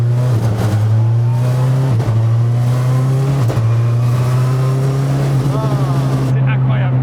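A Citroën Xsara WRC rally car engine drones loud and close on part throttle, its steady note broken by several sharp gearshift dips and brief revs, with a voice talking over it.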